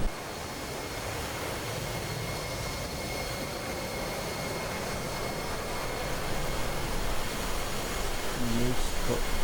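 Steady, loud roar and whine of an F-16 jet engine on landing approach in DCS at night, continuous and slowly building, with a brief voice near the end.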